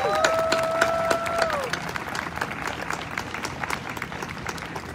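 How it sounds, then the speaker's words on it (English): A big round of applause outside Hartford Hospital for nurses, steady dense clapping from a sizable outdoor crowd lasting throughout, with a brief tonal sound at the start. "give everyone a big, big round of applause, please"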